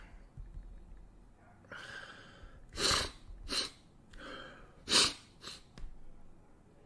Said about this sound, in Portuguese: Desculpa que fica fungando aqui